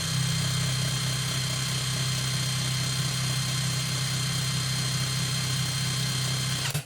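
A YUANSEN cordless screwdriver runs at its first speed with a steady, loud electric motor whine and hum that holds constant until it cuts off abruptly at the end, with no talking.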